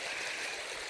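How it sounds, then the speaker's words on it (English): Creek water flowing steadily at a backpacking creek crossing in Big South Fork, Tennessee, a soft continuous rushing wash heard alone at close range. "Another creek crossing."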